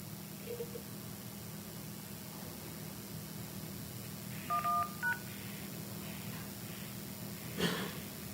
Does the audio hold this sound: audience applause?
no